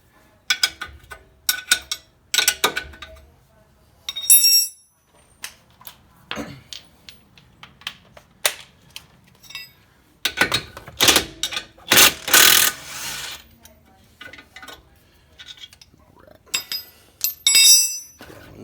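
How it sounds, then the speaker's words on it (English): Wrench loosening the two 19mm strut-to-knuckle pinch bolts on a Mitsubishi front suspension, heard as sharp metallic clinks and ratcheting clicks in irregular bursts, with a louder grinding stretch midway, close and without talk. "Last two things we're going to need to get loose is the two pinch bolts for the strut to knuckle right here."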